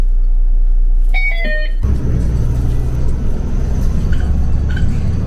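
A city bus pulls up and idles at a stop, a short tonal chime or brake squeal giving way to a loud, close, steady engine rumble.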